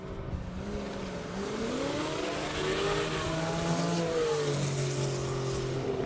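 A classic race car accelerates hard up a hill climb course, its engine note rising and falling through gear changes as it holds a loud, sustained roar close by.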